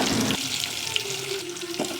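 Fennel seeds and onions frying in hot oil for crab gravy give a steady close sizzle, with a brief clatter as ingredients drop into the pan and faint stirring sounds.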